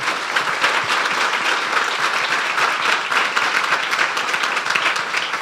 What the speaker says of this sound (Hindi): तालियां बजा दो यीशु के लिए